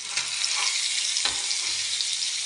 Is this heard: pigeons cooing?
no